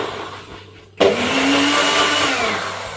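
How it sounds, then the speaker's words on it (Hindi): Near silence breaks suddenly as a small kitchen mixer grinder with water in its jar starts up, then runs steadily with a loud, close, harsh whir and a faint drop in pitch toward the end. "अच्छे से ग्राइंड हो गया पानी।"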